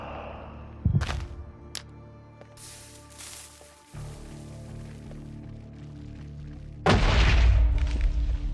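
TNT going off in hardcore Minecraft during a Sculk apocalypse: a sharp boom near the start, a few lighter thuds, then a loud, rumbling blast that rolls on to the end.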